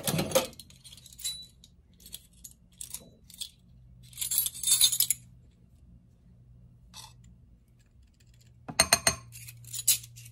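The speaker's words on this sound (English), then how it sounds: "These are those cool measuring spoons I got on that site, Timu." Metal measuring spoons clink and jangle in short bright bursts, scattered and irregular, with quiet gaps between clusters, close and fairly light.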